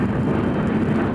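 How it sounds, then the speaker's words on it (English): A fixed-wing airplane passes overhead in a busy air-traffic area, a steady broad engine roar that fills the short moment loudly with no talking. "I apologize for the air traffic."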